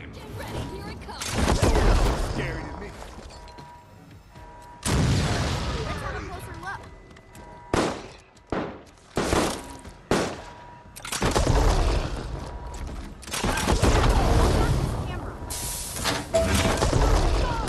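Heavy booming cannon blasts in a video game, several deep explosive shots with rumbling tails, some in quick succession, alongside voices and game sounds.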